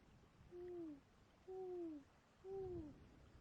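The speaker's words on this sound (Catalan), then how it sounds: "Crida la mama mussol" Three evenly spaced, soft falling hoots from an owl, each about half a second long, sounding alone against a faint hiss.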